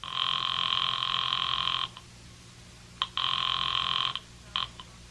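An old-style telephone bell rings loud and close in two long bursts separated by a pause, followed by short clipped rings, as a sound effect in a radio mystery drama.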